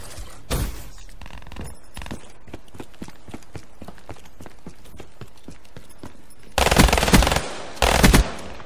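Rapid machine gun fire in the Black Ops 3 shooter game, quick regular bursts of shots with a few loud explosive blasts toward the end.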